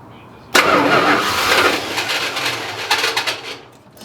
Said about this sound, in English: I'm gonna see if it will fire up one more time.